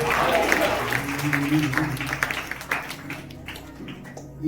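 A church congregation claps in praise during a Sunday worship service, rhythmic hand claps mixed with singing voices and music, gradually thinning out near the end.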